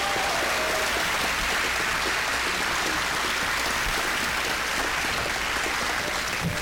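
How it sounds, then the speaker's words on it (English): Sustained applause from a large crowd at a gubernatorial campaign debate, steady and dense clapping throughout with no speech over it. "let's give them all another round of applause"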